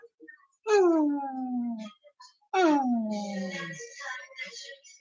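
A dog whimpers and yips in two long, drawn-out whining cries that slide downward in pitch, loud and close, with short gaps of near silence between them.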